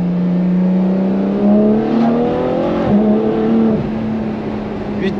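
A Ferrari F12 TDF engine revs up, loud and close, rising through the gears with a steady climbing drone and sharp pitch shifts.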